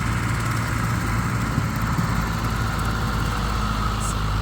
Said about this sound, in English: it basically is a giant lawnmower